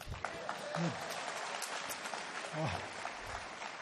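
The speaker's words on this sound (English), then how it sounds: "Yeah, clap it up." A crowd claps and cheers steadily throughout, with a few voices calling out over the applause.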